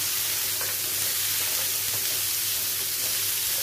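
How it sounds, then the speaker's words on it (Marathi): Garlic, ginger, cashews and tomato saute in a hot pan, giving a steady close sizzle and hiss for the whole stretch, with a few faint stirring clinks and no talk over it. "आता छान परतून घेऊया।"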